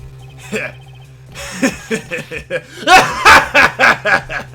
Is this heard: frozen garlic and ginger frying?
no